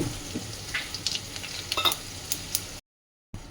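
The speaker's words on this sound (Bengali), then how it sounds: "এই যে পাঁচ ফোড়ন দিয়ে একটু এই যে ভেজে নিচ্ছি" Panch phoron spices with bay leaf and dried red chilli frying in mustard oil, a crackling sizzle with sharp pops and stirring scrapes, then a brief silence before it resumes.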